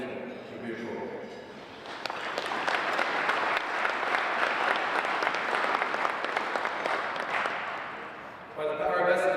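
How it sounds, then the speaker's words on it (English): Applause from the audience at a college athletic hall of fame induction ceremony swells into a sustained, even clapping for several seconds, then fades out while a voice picks up. "perhaps a short round of applause and recognition would be appropriate"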